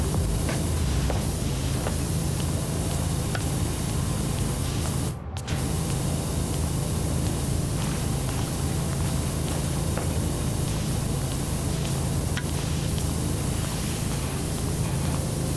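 Steady broadband hiss of a pressure washer nozzle spraying in PowerWash Simulator while cleaning a subway, running continuously and loud with a low hum underneath and a brief dropout partway through.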